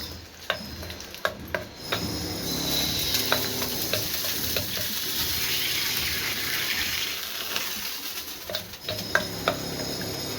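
A spoon scrapes and stirs capsicum chutney in a sizzling pan, with a steady frying hiss and sharp metallic clicks from the utensil, close and continuous, and no voices.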